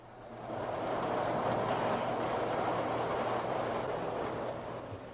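Lionel toy trains run along model track, a steady rolling rumble that swells in within the first half second, holds evenly, and eases slightly near the end, with faint clicking over the rails and no voices.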